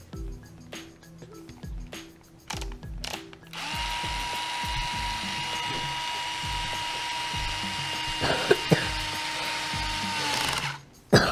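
A power drill or driver backs screws out of a car's differential mount during an Apex Boca bearing swap reassembly; short bursts first, then a long steady whirring run with clicks near the end, close and loud, no talk.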